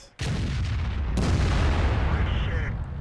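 Tank cannon fire in World of Tanks: a heavy boom opens the clip, then a second loud blast follows about a second later, leaving a rumbling, sustained roar that fills the rest of the clip.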